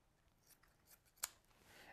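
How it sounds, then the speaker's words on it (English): Scissors snip once through decorative ribbon while a fall bow is being made, a single short, crisp cut standing out against a quiet room background. "And so now I'm going to cut right here."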